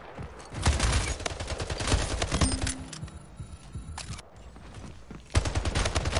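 Rapid assault rifle fire in the video game Splitgate comes in dense bursts with short pauses, loud and close, the shots crackling in quick succession.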